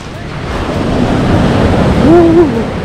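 Ocean surf and a waterfall on a Vancouver Island beach, a loud continuous roaring wash with heavy wind buffeting the microphone and a brief voice near the end.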